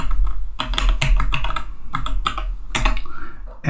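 Computer keyboard typing an SSH command, a run of quick, clustered keystrokes with short pauses, close and fairly loud, with no talking.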